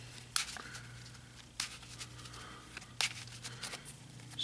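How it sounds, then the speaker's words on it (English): Yu-Gi-Oh trading cards shuffled by hand, three sharp riffling bursts spaced about a second and a half apart, close and quiet over a low steady hum, no talking. "I'm just shuffling now."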